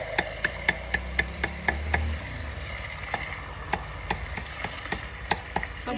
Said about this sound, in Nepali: खुट्टा मुटु कलेजो पखेटालाई यस्तै किमा गरेर